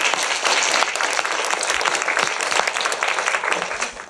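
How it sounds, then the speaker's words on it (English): An audience at a women's business event in Finland breaks into sustained applause, a thick wash of many hands clapping at a moderate, fairly steady level throughout. "you should give yourself a round of applause for that"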